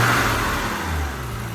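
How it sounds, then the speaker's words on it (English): Audi UrS4 engine briefly revved with throttle blips while chasing a rich-running fault, a close, loud, steady mid-range engine roar that eases off slightly toward the end. "I have been blipping the throttle a little bit"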